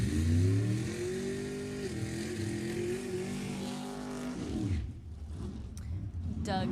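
B-Gas drag racing cars in the 860 index final at Sacramento Raceway, including a 1966 Ford Fairlane with a 632 cubic inch engine, rev loudly and steadily in the water box before the engine noise cuts off near the end.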